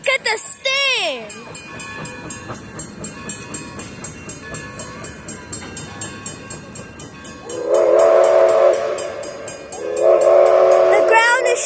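Santa Maria Valley 205 steam locomotive pulling a Christmas train, with loud whistle blasts at the start and end, rhythmic chuffing in between, and people talking nearby.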